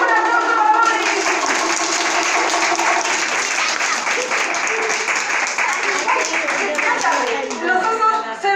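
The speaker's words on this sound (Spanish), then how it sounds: "¡Un aplauso para Boris!" Loud, sustained applause from a crowd, many hands clapping continuously, with a few voices rising near the end.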